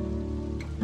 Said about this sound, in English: I didn't know it would rain today.